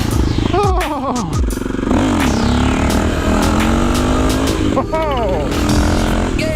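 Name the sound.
supermoto motorcycle revving during a wheelie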